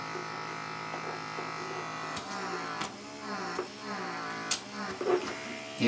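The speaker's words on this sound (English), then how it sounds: "that suction sound is so gross" Silk'n Revit microdermabrasion device with its precision tip, a steady electric buzzing suction hum running throughout with brief louder pops and changes as it moves over the skin near the brow bone, close and loud.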